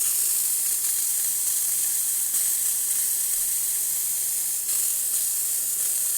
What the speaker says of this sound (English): close it and let it build steam for a little bit